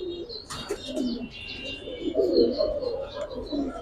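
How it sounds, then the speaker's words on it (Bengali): Pet teddy pigeons coo softly in a loft at a bird market, a low murmuring warble with faint chirps over steady background noise. "ভাই এক পেয়ার টেডি কবুতর"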